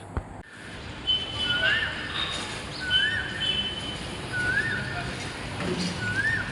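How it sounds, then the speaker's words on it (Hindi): An Asian koel calls repeatedly, a rising whistled note about every 1.3 seconds, set against a steady busy background with a low murmur of voices. "यहाँ भी जो है ना कोयल की आवाज़ आ रही"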